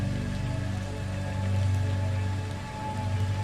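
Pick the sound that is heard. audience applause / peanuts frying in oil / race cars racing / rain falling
rain falling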